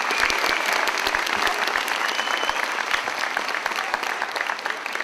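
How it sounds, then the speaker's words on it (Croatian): An audience at an evening singing competition breaks into loud, sustained applause, a dense wash of clapping hands filling the whole stretch. "pa ih pozdravimo, molim vas, jednim velikim gromoglasnim pljeskom"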